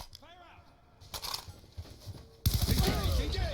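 Bursts of rapid automatic fire from the B02 PDW in Call of Duty, loud and close, broken by short gaps, with game voices and effects mixed in.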